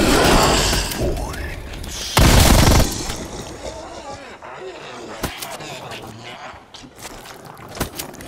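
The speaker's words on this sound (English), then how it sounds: "Throwing C4." C4 explosive thrown and detonating in Black Ops Cold War Zombies, a loud, dense blast burst near the start, then rumbling debris and scattered sharp game effects trailing off.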